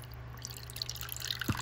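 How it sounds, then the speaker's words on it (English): Water pours and drips into a tarantula's water dish, giving a short, light, close splashing trickle that ends in a soft thud. "get that water pouring ASMR"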